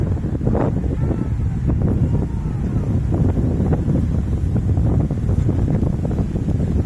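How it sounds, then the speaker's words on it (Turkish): Steady, heavy wind buffets the microphone with a constant low roar throughout, no talking, on the beach in Barcelona by the Mediterranean. "Rüzgar var tabi"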